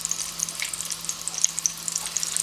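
Cumin seeds sizzle and crackle in hot oil, with steady hissing and scattered small pops, close up and without talk.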